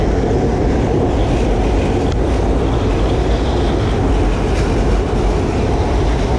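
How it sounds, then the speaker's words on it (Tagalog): An LRT-1 light rail train passes by, a loud, continuous roaring rumble of wheels and carriages that fills the whole stretch without a break. "Medyo maingay yung tren pag nagdadaan"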